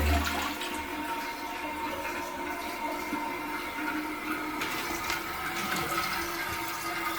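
A budget toilet flushes with strong water pressure, a loud rushing gush at the start that settles into a steady swirling drain and refill, close and without any talking.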